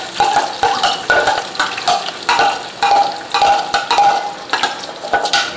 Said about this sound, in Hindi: देखिए घी हमारा गर्म हो गया है। अब इसमें हम प्याज शामिल करेंगे।